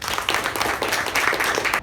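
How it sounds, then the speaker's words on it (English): Dense, steady applause from a group at a Toastmasters meeting, many hands clapping together at a moderate level before cutting off abruptly at the end. "congratulate the previous VPM Toastmaster Sanjana and the previous executive committee with a huge round of applause"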